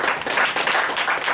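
A church congregation applauding together, steady dense clapping at close range that holds evenly throughout, with no voices standing out.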